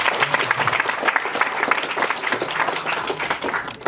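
Audience at a worker co-op cohort gathering claps in sustained, dense applause with no pause across the whole stretch.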